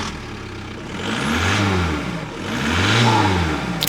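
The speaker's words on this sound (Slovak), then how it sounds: "Idem naštartovať auto a ideme spraviť soundcheck" A car engine, heard before any tuning, runs close by and swells through two strong revs, rising and falling in a steady mid-pitched roar over a constant idle.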